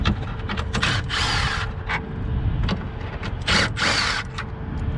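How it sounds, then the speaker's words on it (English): A tool whirs and clicks in short bursts as four 10mm bolts come out of a 2021+ Ford Bronco grille, close and fairly loud with uneven gaps between bursts. "Now you're going to remove the 4 10mm bolts on the grill."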